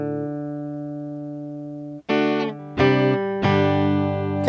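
Guitar strings picked one at a time for tuning through a GarageBand amp setup, each sustained harmonic note ringing for a second or more before the next string is plucked, clear and alone with no talking.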